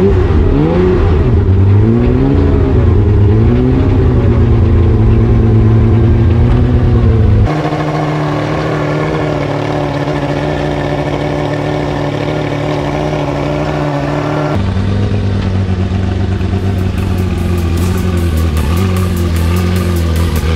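The engine of a GT3 Cup race car starts up and idles loudly, then revs several times in a rising and falling drone.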